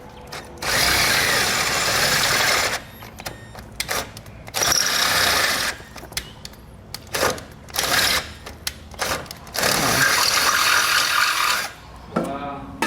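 A power drill bores holes in a 2019 Mini Cooper for a Blue Ox base plate, running in several loud sustained bursts of a few seconds each, separated by short pauses and clicks.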